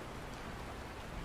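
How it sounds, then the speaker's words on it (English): Steady rain pours down in the Honkai: Star Rail video game, a dense, even hiss that holds level and unbroken throughout with no voices over it. "This is the sound of rain."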